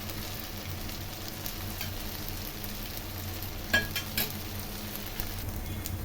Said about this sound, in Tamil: அப்படியே நம்ம சுற்றிலும் கொஞ்சம் லைட்டாக எண்ணெய் விட்டுக்கலாம்